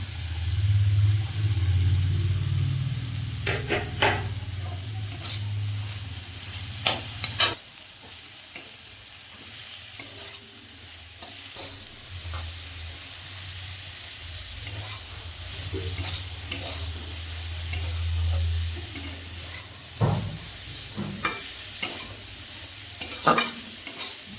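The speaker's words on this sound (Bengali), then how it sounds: "এবার চিংড়ি মাছগুলো দিয়ে দেবো" Prawns added to frying mustard greens and stirred in a hot pan, a continuous low sizzle and hiss with intermittent spatula scrapes and knocks, heard close and alone.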